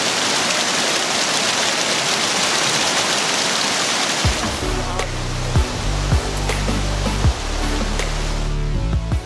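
Kuang Si waterfall near Luang Prabang gives a dense, close, hissing rush of falling water for about four seconds. Then it cuts to a quieter scene with a low hum and scattered clicks.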